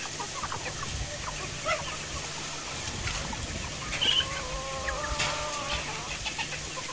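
Backyard chickens in a small village poultry flock in Konkan cluck and murmur nearby, with a drawn-out cackling call midway over a faint outdoor background.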